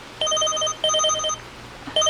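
A phone rings with a bright electronic tone for an incoming money transfer text, sounding in two clear bursts followed by the start of a third, close and loud, with no talking.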